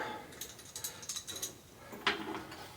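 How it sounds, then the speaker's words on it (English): Big ratchet turning a bottom bracket tool to tighten a bicycle bottom bracket, a rapid run of clicking pawl strokes followed by a louder single clunk, close and distinct. "This is just a bottom brackety tool on a big old ratchet."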